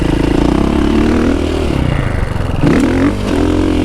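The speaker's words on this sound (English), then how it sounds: "Getting to ride this round a motocross bike, a genuine Dakar bike" A genuine Dakar motocross bike's engine blares loud and close, holding a hard rev, dipping briefly, then surging back up in a sharp burst of throttle.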